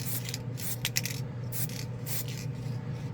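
A Revell metallic spray can sprays paint onto a model in short hissing bursts, several close, bright sprays with brief pauses between them over a low background hum.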